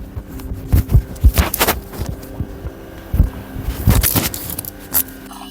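Compressor of a built-in Candy fridge with an oil-filled system and blocked dryer filter runs with a low steady hum, overlaid by intermittent clanks, knocks and rattles close by.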